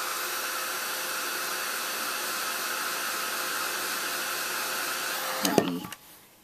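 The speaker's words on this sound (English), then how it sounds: "excuse my heat gun." A heat gun blows a steady, loud rushing hiss for about five seconds, then clicks off and the airflow fades away.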